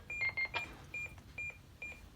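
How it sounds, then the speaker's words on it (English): A GME UHF handheld radio sounds a Selcal call alert: a rapid cluster of sharp, high electronic beeps, then single beeps repeating about every half second, close and clear against quiet background hiss. "once that beeping stops, it will continue to beep just once every second or so, just to let you know that someone's called you"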